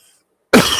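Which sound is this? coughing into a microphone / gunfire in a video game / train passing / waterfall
coughing into a microphone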